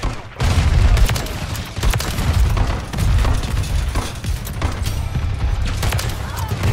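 Dense, loud gunfire in a Call of Duty MW3 hardcore shotgun team deathmatch on Shipment, with heavy booming shots layered over each other throughout and faint voices underneath.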